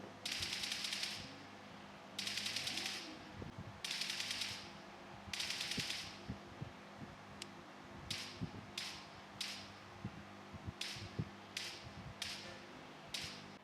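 Bursts of rapid gunfire from a game, four long sprays followed by quicker short volleys and single shots, with clicks in between.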